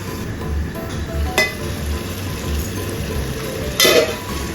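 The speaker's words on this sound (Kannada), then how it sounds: "ನೋಡಿ ಈ ಥರ ಎಣ್ಣೆಲೆ ಚೆನ್ನಾಗಿ ಫ್ರೈ ಆಗಬೇಕು." Mushroom biryani masala frying in oil in a pan: a steady soft sizzle with a couple of sharp clinks of a utensil against the pan, close and continuous, with no talking.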